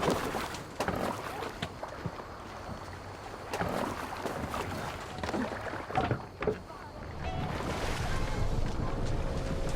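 A Viking longship moving across water in Assassin's Creed Valhalla, with steady wash of waves and wind, rhythmic oar splashes and creaks, and occasional voices over the sea ambience.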